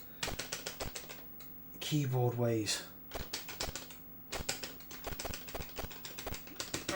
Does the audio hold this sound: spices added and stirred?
no